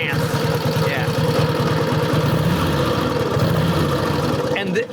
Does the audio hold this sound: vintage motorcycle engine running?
yes